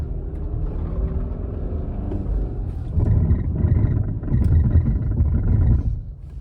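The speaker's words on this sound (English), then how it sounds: "I'll give it about half throttle from a stop and see how much slip we get" A car on Michelin X-Ice snow tires pulls away at half throttle across a snowy parking lot, then brakes hard from 20 mph to a stop. A steady low rumble swells louder for a few seconds before dropping away.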